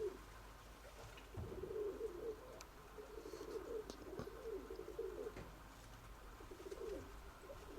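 Pigeon cooing in repeated low, throaty phrases at moderate distance, with faint bird chirps and light outdoor background noise.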